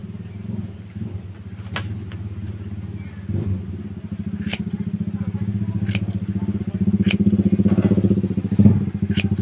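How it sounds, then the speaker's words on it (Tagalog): A motorcycle engine runs outside a house, a steady low throbbing rumble that grows slightly louder toward the end, with occasional sharp clicks and light clatter; a voice speaks briefly in places. "ingay yung motor"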